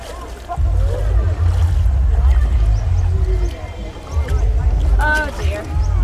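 Boats being paddled along the Nam Song river at Vang Vieng, a continuous close splashing and water rush with voices calling out over it and brief whistles near the end.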